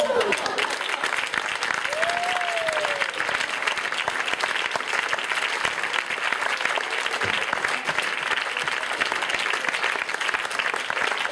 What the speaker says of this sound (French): Alors on applaudit bien fort Alex et Stéphane, mesdames et messieurs